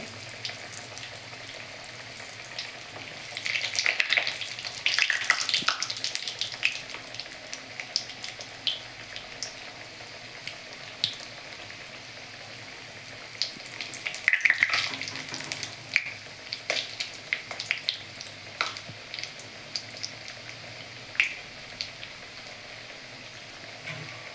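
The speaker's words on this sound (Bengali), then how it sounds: "এটাও দিচ্ছি, করে এক এক করে সব ভাজবো।" Soya bean cutlets fry in hot oil with a quiet, continuous crackling sizzle and scattered sharp pops, swelling in brief bursts as pieces are turned or added, with no talking.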